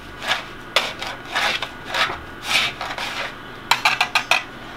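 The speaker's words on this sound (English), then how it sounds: "give that a little twist and whisk just to get it combined" A whisk scrapes around a bowl as ingredients are combined for a honey bun cake, giving short, rhythmic rasping strokes in uneven bursts, close and moderately loud.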